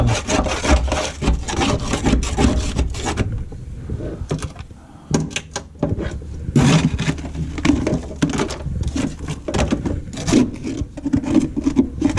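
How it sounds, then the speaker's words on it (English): Old material being scraped off the interior of a 2005 Chrysler PT Cruiser GT Convertible, continuous rough rasping strokes close up, briefly easing before resuming, with no talk. "We're going to just take some old junk and go under here, start scraping."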